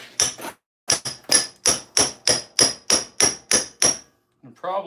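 Hammer blows on rusty scrap metal in a workshop, about eleven sharp, ringing strikes in a steady rhythm, loud and close, followed by a short burst of rustling or clatter.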